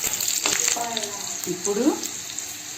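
Green chilies sizzle in a spoonful of oil in a kadai that still holds residue from frying chicken, a close, steady crackle with short bursts of spitting while a voice speaks briefly.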